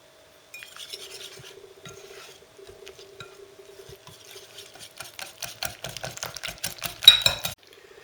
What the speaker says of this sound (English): I'm going to whisk everything together.